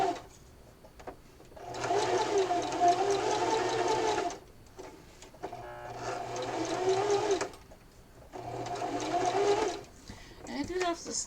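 Sewing a Valentine pillow, a sewing machine runs in three steady bursts separated by brief stops where the fabric is pivoted at a corner, close and fairly loud.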